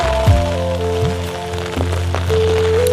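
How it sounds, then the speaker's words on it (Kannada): Heavy monsoon rain falls steadily at Agumbe in the Malnad hills, a loud continuous wash of drops drumming on surfaces close by, with low tonal hums running underneath throughout. "ಸ್ವಲ್ಪ ಸಮಯದ ನಂತರ ಶುರುವಾಯಿತು ಭಾರಿ ಮಳೆ"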